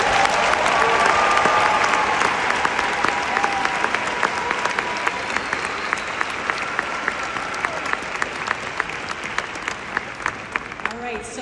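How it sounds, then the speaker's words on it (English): Enthusiastic round of applause from a large crowd at an ASU graduation convocation, loud dense clapping that gradually thins toward the end with a few distinct claps standing out. "I'd like to take a moment to recognize what you have done and what you will do with an enthusiastic round of applause."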